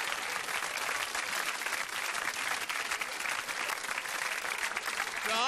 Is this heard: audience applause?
yes